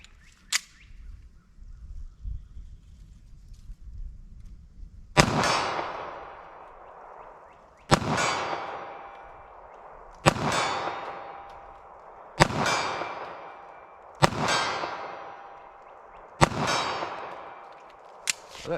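A .380 ACP pistol firing Federal Hydra-Shok ammunition: about six sharp, evenly spaced reports, each with a ringing, decaying tail, follow a faint early crack, and no talk is heard between them.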